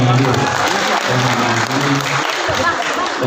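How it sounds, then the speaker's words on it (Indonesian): Applause from the crowd at the Partai Masyumi national coordination meeting, a loud, dense wash of clapping that runs steadily throughout, with voices and crowd murmur mixed underneath. "Tepuk tangan buat semua yang hadir."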